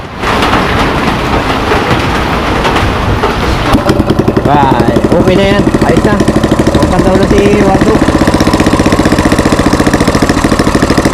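An old engine, recently repaired after flood damage, runs with a steady rhythmic knocking chug that becomes more pronounced midway, loud and close, while people talk over it.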